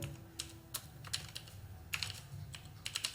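Keys tapped on a computer keyboard while a comment is typed into an Excel spreadsheet, a quiet irregular run of clicks and taps near the microphone, with no talking.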